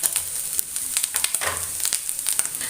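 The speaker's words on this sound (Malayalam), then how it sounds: "4-5 ചെറിയ ഉള്ളി ഇട്ട് കൊടുക്കുന്നുണ്ട്. അത് നമുക്ക് നല്ലോണം ഒന്ന് ചുവക്കെ ഒന്ന് വറുത്തെടുക്കാം." Small shallots and fennel seeds fry in oil in a pan, giving a soft, continuous crackling sizzle with light scattered pops, close and alone without talk.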